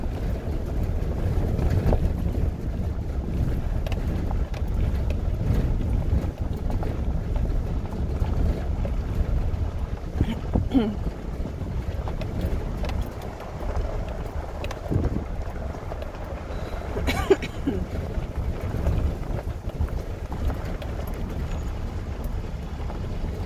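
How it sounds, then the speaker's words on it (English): Wind blows outdoors near a miner's cabin, buffeting the microphone with a loud, continuous low rumble that rises and falls in gusts for the whole stretch, with no talk. "sorry if the wind is a little loud"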